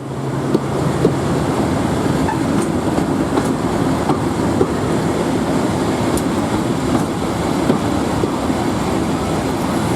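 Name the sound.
diesel locomotive hauling train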